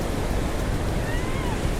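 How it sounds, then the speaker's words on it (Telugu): Water released through opened dam gates rushing down with force, a dense roar of white noise mixed with wind buffeting, steady and loud throughout. "చూసారు కదా వాటర్ ఎంత ఫోర్స్లో ఉన్నాయో."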